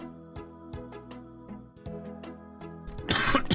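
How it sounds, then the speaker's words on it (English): A person coughs in a run of sharp, repeated bursts with short gaps, fairly close, ending in a harsher, rougher throat-clearing cough; no speech. "I'm struggling a little bit this morning when it comes to coughing."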